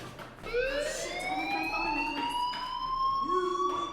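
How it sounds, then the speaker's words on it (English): A fire alarm in the video game Life is Strange wails in rising electronic sweeps, loud and continuous, with no voices over it. "Hey, do you hear that fire alarm?"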